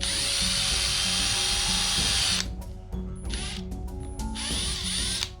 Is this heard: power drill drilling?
yes